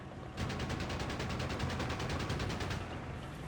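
A quad-mount machine gun fires one long, rapid, evenly pulsed burst at close range in the World War II strategy game Company of Heroes 3, loud and continuous for about two seconds before cutting off.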